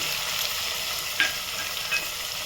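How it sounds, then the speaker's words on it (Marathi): Onion paste sautéing in a pan for matar paneer gives a steady, close sizzle, broken by a couple of brief stirring scrapes, with no voices. "आपण जे वाटण बनवलं होतं कांद्याचं ते घालून घ्यायचं आहे परतून घ्यायचं छान"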